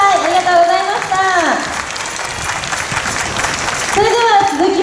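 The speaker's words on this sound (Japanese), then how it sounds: "もう一度大きな拍手お願いします。" Audience applause at a national anti-nuclear rally, a loud sustained crowd clapping with a person speaking over it at the start and again near the end.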